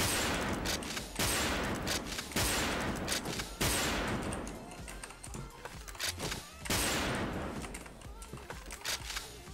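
Weapon fire in a battle royale shooter game comes in rapid, loud bursts of repeated shots, separated by short pauses across several volleys, with no voice over the shots.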